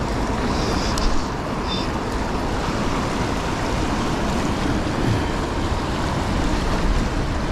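A small waterfall on the South Platte River in downtown Denver rushes steadily, a loud continuous broadband roar of churning water with no pauses.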